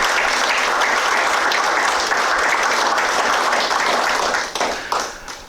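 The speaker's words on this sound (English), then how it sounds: "big round of applause" An audience at a high school engineering hard hat ceremony gives the engineering students a big round of dense, steady applause that stays loud throughout and then tapers off in the final second.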